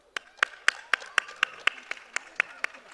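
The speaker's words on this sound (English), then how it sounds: "Another round of applause," An audience at a Business and Arts South Africa event claps, sounding as a sparse series of about a dozen crisp, evenly spaced claps rather than a full ovation.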